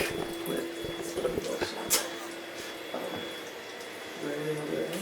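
Hot water running from a hotel shower at a Holiday Inn: a steady, fairly close hiss of spray that continues throughout, with people talking over it.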